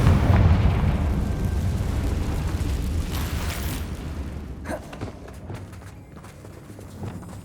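Explosion from the Confringo spell in the PS5 video game Hogwarts Legacy, a heavy booming blast at the start that rolls into a long rumbling decay, followed by scattered lighter clattering impacts.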